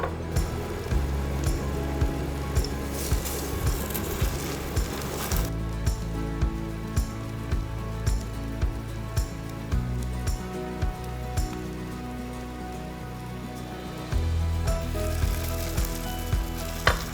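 Tuna and sweet potato cakes sizzle steadily in a frying pan, a constant crackling hiss broken by regular soft taps and stirring sounds, growing louder near the end as more patties go in.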